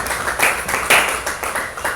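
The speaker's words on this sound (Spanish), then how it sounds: "Denle un aplauso al Señor." Church congregation clapping during a worship service, a short burst of rhythmic, fairly loud claps from a gathered crowd with regular accented beats.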